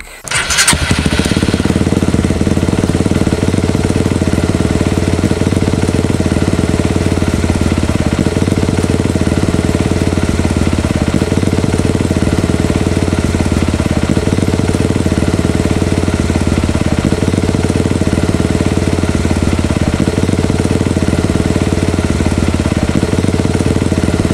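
A Honda CRF150L motorcycle engine with a Juken 5 ECU starts and then idles steadily, loud and close, with a constant throbbing rumble throughout.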